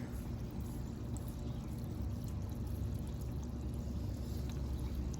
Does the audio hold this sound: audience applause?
no